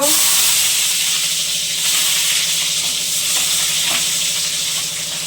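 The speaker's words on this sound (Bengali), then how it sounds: "আলুটা ভেজে যে তেল ছিল তাতে আমি দিলাম একটা শুকনো লঙ্কা কেটে দেব কুচনো পেঁয়াজ দেব" Dried chili and chopped onion fry in hot oil left over from frying potatoes, a steady close sizzle that stays loud and even throughout.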